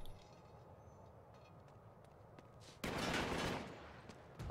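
Gunfire in Uncharted 3: Drake's Deception Remastered on PS4 erupts as a sudden loud burst of shots after a quiet stretch of low background rumble, then tapers off before a second burst begins at the end.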